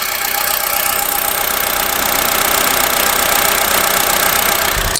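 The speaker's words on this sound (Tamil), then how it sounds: "ஸோ நீங்கள் இன்ஜின் சவுண்டு கேட்டிருப்பீங்க." A hatchback car engine runs steadily at idle, loud and close, with a constant mechanical hum and faint knocking throughout.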